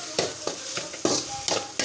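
Egg and cooked rice frying together in a pan give a close sizzle cut by quick rhythmic spatula scrapes and clacks about every quarter second.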